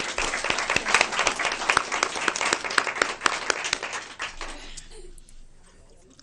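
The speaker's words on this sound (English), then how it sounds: "One more round of applause, please." A room full of people at a school board meeting applauds steadily with dense clapping, then the applause thins and fades out near the end.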